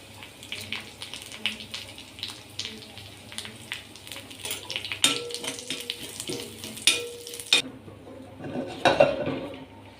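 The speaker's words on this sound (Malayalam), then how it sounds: "വറ്റൽമുളക് നമുക്കിതിലേക്ക് ഇട്ട് കൊടുക്കാം മുളകിനോടൊപ്പം തന്നെ നമ്മുടെ കറിവേപ്പില കൂടി നമുക്ക് ഇട്ട് കൊടുക്കാം" Dried red chillies and curry leaves hit a pan, giving a crackling sizzle, with repeated clinks and scrapes of a utensil against the metal and a louder burst near the end.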